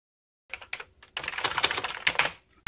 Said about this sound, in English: The keyboard feels great, good spring response, all the springs are in place.